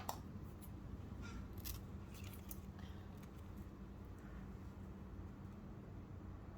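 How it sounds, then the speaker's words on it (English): Scissors snip through ribbon in a quiet room, a scattering of soft, close crisp cuts clustered in the first few seconds and then fading, over a low steady background hiss with no speech. "Cut some of the ribbon again."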